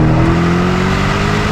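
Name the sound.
Aston Martin DBX SUV accelerating hard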